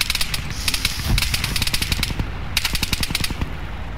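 Automatic gunfire in the military shooter Arma 3, loud rapid bursts of close shots crackling almost without pause over a few seconds.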